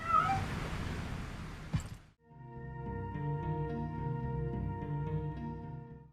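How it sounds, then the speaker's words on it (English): A cute Portuguese cat in the video game Sinking Iron gives a few short, rising meows, then soft sustained game music takes over. "it has a cute Portuguese cat in it"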